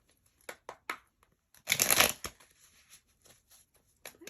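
Tarot cards shuffled by hand during a reading, soft papery riffles and slides in short bursts with a longer, louder flurry near the middle, close and alone without talk.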